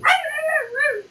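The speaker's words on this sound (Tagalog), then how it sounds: "Tahol!" A dog gives one short, whining yip that rises and then trails off into a softer second note, close and clear against a quiet background.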